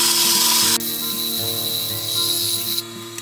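Hand sanding inside a wooden vessel: close, steady rubbing of abrasive on wood, a loud stretch at first and then softer back-and-forth strokes, with no speech.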